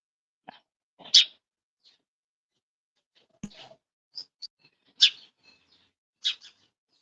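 Sparrows chirping outdoors, a handful of short, sharp chirps scattered irregularly over several seconds with quiet gaps between them, fairly faint and without any talking.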